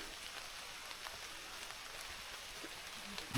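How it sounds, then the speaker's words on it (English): Soft, steady rain patters on leaves in the Gombe forest with scattered distinct drops, faint and continuous with no voices. "I don't know if you can hear the rain."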